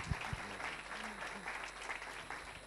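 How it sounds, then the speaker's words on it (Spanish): A television gala audience applauds a presenter as she is introduced, with soft, steady clapping at a distance while voices speak briefly over the start. "toca ya ese aplauso para ella"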